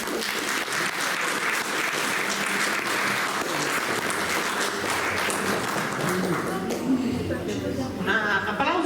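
Spectators applaud a poet as she is invited to recite at a poetry contest, the clapping steady and full for most of its length before thinning out as voices and other noise come through.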